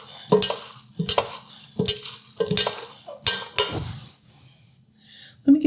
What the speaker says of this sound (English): I'm gonna go ahead and give it a stir